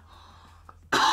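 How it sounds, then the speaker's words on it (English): A single loud, breathy cough bursts out near the end after a quiet stretch, close and sharp. "Pardon me for coughing."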